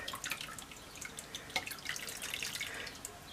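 Lye water for soap making drips through a strainer into a container, quick irregular patters and small splashes over a soft trickling wash, close and fairly quiet.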